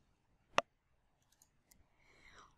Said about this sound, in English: Then click on Save Term.